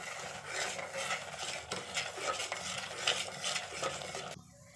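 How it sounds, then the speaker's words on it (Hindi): A thick barfi mixture being stirred continuously in a pan as it cooks dry, making a dense, steady scraping and faint sizzling that runs unbroken and close before cutting off abruptly near the end. "और इसे चलाते रहेंगे हम ताकि ये पकड़े ना।"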